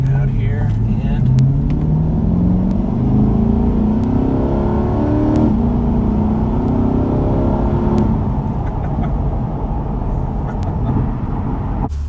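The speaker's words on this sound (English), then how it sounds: "it gives me a chance to really get on the throttle from a dig, or low speed roll at least" A 2020 Chevrolet C8 Corvette Stingray 2LT accelerating hard from a low-speed roll, its engine note climbing loudly for about eight seconds before leveling off, heard from inside the cabin with a voice faintly present.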